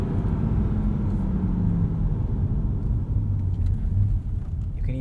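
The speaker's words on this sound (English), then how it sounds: "It is satisfying rowing through the gears and hearing that quick shift response." A 2020 Chevrolet C8 Corvette Stingray coupe's engine drones loudly and continuously from inside the cabin, its pitch dropping and climbing through gear changes over steady road rumble.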